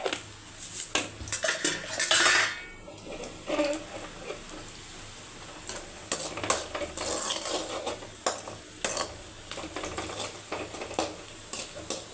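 Metal spoon scraping and clattering against a pan while sautéing a tempering for seasoned leftover rice, with repeated close stirring clinks and rattles over a faint low hum.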